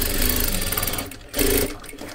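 A sewing machine stitches tucks on a blouse, a close, steady whirring motor with rapid needle clatter that briefly slows and dips around the middle before running again.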